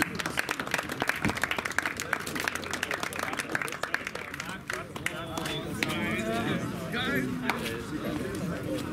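Audience applause at a motorsport award ceremony at the Biķernieki track: steady, dense clapping from a crowd throughout, with a voice speaking over it in the second half.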